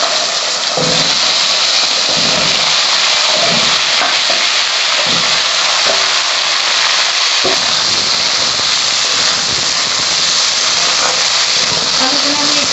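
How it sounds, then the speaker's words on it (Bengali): Potatoes dropped into hot oil with five-spice in a pan, setting off a loud, dense sizzle that continues steadily, with a few thumps and stirs as the pieces are moved around, close up. "এবার আলুগুলো দিয়ে দিচ্ছি।"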